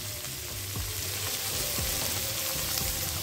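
Bottle gourd seeds frying with salt and turmeric give a steady close sizzle, with a few soft stirring scrapes in the pan and no voices.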